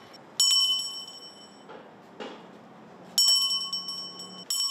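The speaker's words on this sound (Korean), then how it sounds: "바쁘게 오가는 사람들 사이로 구세군 종소리가 울립니다." A Salvation Army charity handbell rings on a busy downtown Daegu street at year's end. Three loud, bright clangs ring out with long metallic decay, the second arriving after a long pause and the third soon after it.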